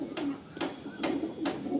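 Kalanka high-flying pigeons coo close by in repeated soft, throaty bursts, several overlapping calls in a steady rhythm.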